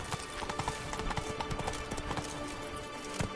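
Roach the horse trots in The Witcher 3, her hooves clip-clopping in a quick, even rhythm at close range, fairly quiet and continuous, with no one speaking.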